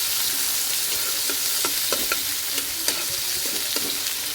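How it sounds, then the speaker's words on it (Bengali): Spice paste with chopped onion stir-frying in hot oil for a Bengali potol (pointed gourd) dish, a steady close sizzle broken by scattered spoon scrapes and small pops. "এখন এই মশলাটা কষিয়ে নিব।"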